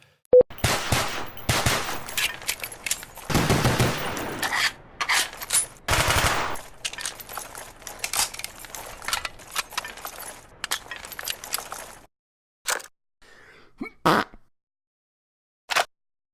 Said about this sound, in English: I spent my afternoon watching reload animations from Call of Duty Black Ops